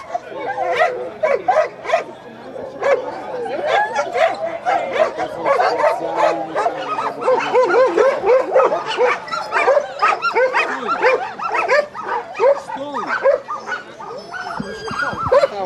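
Sled dogs at a dog sled race in Lipusz keep up a dense, loud chorus of barks, yips and whines, with overlapping calls packed continuously throughout.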